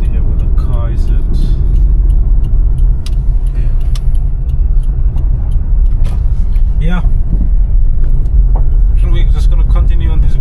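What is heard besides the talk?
car driving on a gravel road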